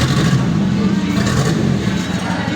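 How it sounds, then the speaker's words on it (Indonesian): A car engine runs loud and close after being started, a steady low rumble with slight surges, while people talk nearby. "Sudah, mesin sudah menyala ya."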